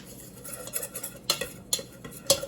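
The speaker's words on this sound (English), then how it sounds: "And I'm going to get that all stirred up." A utensil stirs enchilada sauce in a pot, giving faint, irregular scraping and clinking strokes against the metal, several sharp taps standing out over a quiet background.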